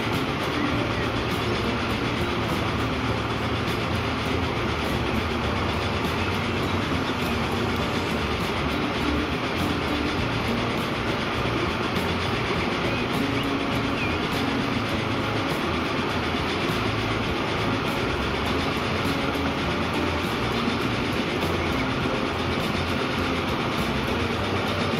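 A train running on rails in the video game Transport Fever 2, a loud, continuous rumble with rhythmic clickety-clack that carries unbroken for the whole stretch.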